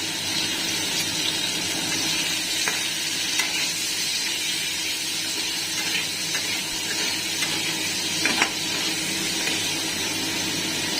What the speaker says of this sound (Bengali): পনিরগুলোকে হালকা করে ভেজে নেওয়া হচ্ছে